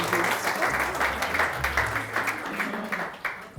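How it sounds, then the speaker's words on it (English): Steady, dense audience applause welcoming a speaker to a masterclass stage, many hands clapping fairly loudly throughout with a faint murmur of the crowd beneath. "a round of applause and welcome Julie Master"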